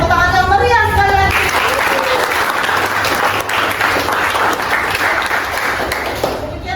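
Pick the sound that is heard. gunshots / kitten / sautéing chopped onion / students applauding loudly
students applauding loudly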